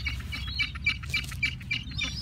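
Shrill seagull squawks and chirps, from gulls fighting over food, repeat in quick, irregular bursts over a steady low rumble of wind or surf.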